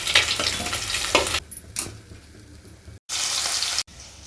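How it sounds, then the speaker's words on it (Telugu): Fish pieces frying in a pan for a fish curry, with bursts of loud crackling sizzle broken by quieter gaps and abrupt cuts. "సేమ్ ఇదే ప్రాసెస్లో మిగిలిన ముక్కల్ని కూడా ఫ్రై చేసేసుకుందాం"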